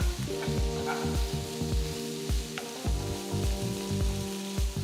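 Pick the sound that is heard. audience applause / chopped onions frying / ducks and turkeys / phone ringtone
chopped onions frying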